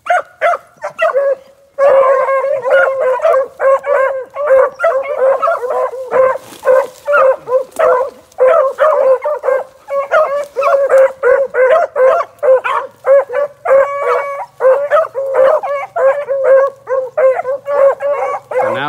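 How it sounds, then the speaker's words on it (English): A puppy barking with every breath alongside a pack of other dogs, a loud, close, relentless stream of overlapping barks, yips and bawling howls with barely any pause. "She's barking every breath with them other dogs."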